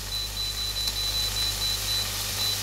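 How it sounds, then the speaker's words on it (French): A kitchen timer gives a thin, high, steady tone while being set, faint above the continuous sizzle of a pan frying chicken and vegetables, with no voices. "Alors on va mettre le minuteur."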